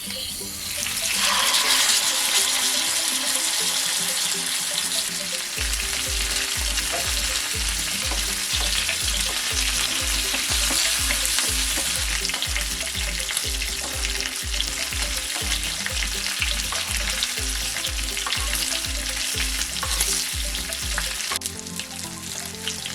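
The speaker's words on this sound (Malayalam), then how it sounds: "എണ്ണ ചൂടായി നമുക്ക് ഇതിലോട്ട് മീൻ വെച്ചു കൊടുക്കാം" Mackerel fries in hot oil with a loud, steady, crackling sizzle, joined by a rapid rhythmic thumping that runs for most of the stretch. No one speaks.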